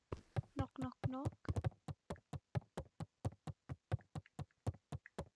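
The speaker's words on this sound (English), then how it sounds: "I heard a knock, knock, knock." Steady, evenly spaced knocking on a door in the video game Beacon Pines carries on for several seconds at moderate volume, with a voice talking over the early knocks.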